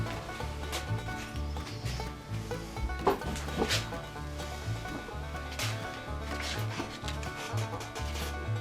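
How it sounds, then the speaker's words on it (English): Fine sandpaper wet sanding a sprayed guitar finish by hand, rhythmic close-up rubbing strokes in a steady back-and-forth pattern, with a few sharper scrapes standing out midway. "Sanding it with fine sandpaper, wet sanding, take out some minor runs"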